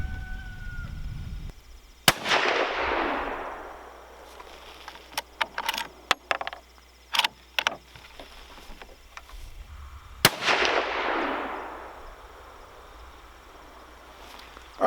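Two loud Savage Axis II rifle shots in 350 Legend crack outdoors several seconds apart, each followed by a long rolling echo, with faint clicks of the action cycling between them over quiet insect ambience.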